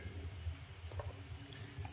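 Faint mouse clicks on a checkbox and a button in a MATLAB App Designer GUI, a few short sparse ticks over low background hum with no talking.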